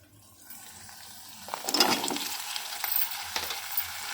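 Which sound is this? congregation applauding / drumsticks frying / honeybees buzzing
drumsticks frying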